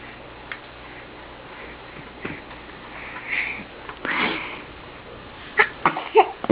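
A baby sneezes once nearby at an Easter gathering, a short sharp burst over quiet room tone, followed by a few small sniffs and light clicks.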